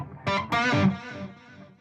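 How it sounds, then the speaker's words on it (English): A Cooper Time Cube delay on its own repeats a short note as smeared, slightly distorted echoes, two quick onsets blurring into a trailing wash that fades over under two seconds. "You're hearing the Cooper time cube delay, which is that on its own right now."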